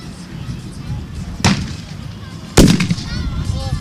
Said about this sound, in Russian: В моих руках винтовка Мосина, и мы попробуем из нее выстрелить.